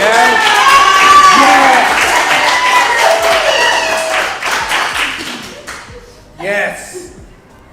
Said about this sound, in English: give a good round of applause if you're ready for her to do this